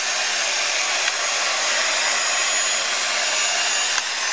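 An electric sander runs steadily while wet-sanding and polishing a scratch, a loud close continuous whir with a bright rasping tone and no talk over it.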